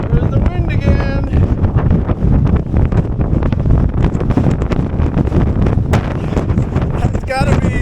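Strong gusting wind buffets the microphone in an open California poppy field, a loud continuous roaring rush with voices faintly mixed in.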